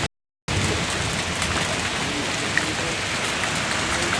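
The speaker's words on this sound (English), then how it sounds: "We're getting about pea-sized hail right now. And it's tinking all over." Pea-sized hail falls during a thunderstorm and makes a dense, steady patter and tinking that fills the whole clip after a brief silent gap at the start. No one speaks.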